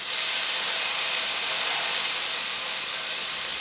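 Lamb skewers searing on a hot dry pan with no oil, giving a loud, steady sizzling hiss close up, uninterrupted and with no voices.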